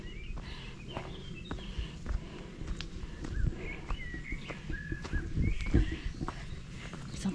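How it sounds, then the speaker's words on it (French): Birds chirp and call intermittently through a forest during a relaxed trail walk near Arbois, with rustling footsteps underfoot and a steady outdoor ambience; no talking. "Vous entendez tous les oiseaux?"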